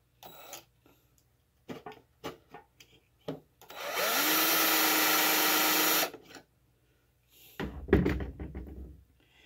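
A power drill driving into wood for a shoulder mount taxidermy form whirs steadily for about two seconds, close by, with scattered knocks and handling clatter before and after it.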